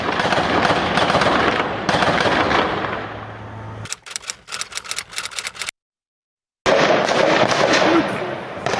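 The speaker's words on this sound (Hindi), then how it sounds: "इमारतों के ऊपर से वो गोलियां बरसा रहे थे" Rapid bursts of gunfire from atop buildings during street fighting in Jenin, West Bank, crackle in rattling volleys over a noisy background, with a brief silence before the dense noise returns.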